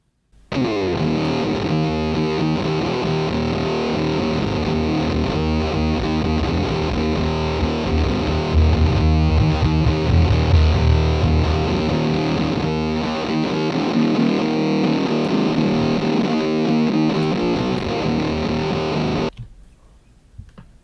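Dense, distorted electronic music plays continuously for about twenty seconds through a low-end EQ filter, its bass end shifting in tone before it cuts off abruptly near the end.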